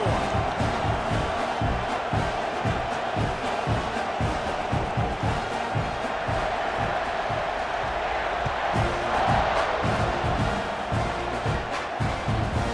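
Stadium crowd buzzing after a score in the NCAA 26 football video game, LSU against Texas A&M, a loud, sustained roar of cheering with pulsing chant-like rhythm and no voice over it.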